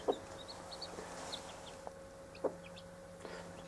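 A hen gives a danger call to her two-day-old chicks: short, faint clucks and chirps repeat irregularly over quiet farmyard background, with small peeps scattered through.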